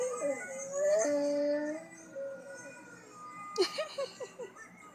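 A husky howls in long, drawn-out tones, then breaks into shorter whimpering yips, fairly close and clear, while a voice softly joins in with a howl.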